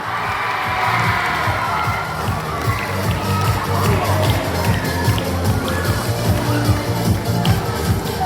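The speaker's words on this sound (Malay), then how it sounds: "berikan tepukan gemuruh kepada kontingen Seremban" Crowd cheering and shouting for the Seremban contingent at a special education school athletics championship awards ceremony in Negeri Sembilan, a loud, steady wash of voices with whoops lasting throughout.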